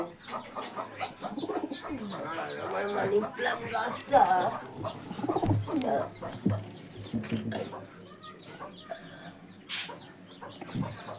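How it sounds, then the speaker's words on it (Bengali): A lone pigeon perched at a window coos softly and intermittently, mostly buried beneath a person talking close by throughout. "ওই পায়রাটা একাই থাকে বসে জানলাতে"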